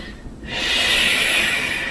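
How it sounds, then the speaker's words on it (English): A deep, loud breath is drawn in, then exhaled in a long, steady rush during a standing warm-up exercise, close and alone. "Breathing deeply."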